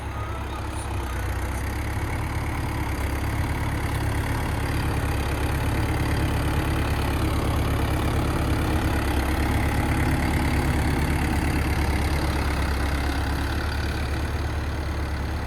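A steady low tractor engine idles throughout in a farm field, a constant rumbling drone with no breaks, fairly close and loud.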